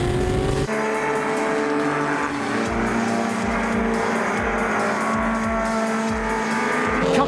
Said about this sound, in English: Going down the straight and heading to the S's, and Lazarus hangs onto the back of Scribante's Porsche